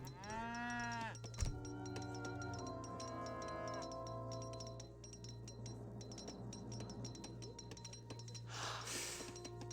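Age of Empires 3 cow lowing in-game: a couple of drawn-out moos over a faint bed of game clinks and chimes, no talk.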